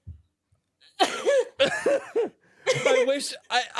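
A person with a lingering cough of two and a half weeks coughs and chuckles in several harsh, breathy bursts up close, mixing rough coughs with laughter-like sounds, separated by brief silences.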